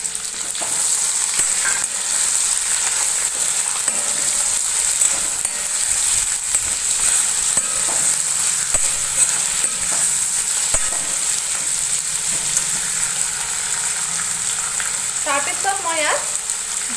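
Chicken fries with ginger, garlic and chili paste for chicken masala in a steady loud sizzle, with spatula scrapes and light clinks against the pan and a brief vocal sound near the end.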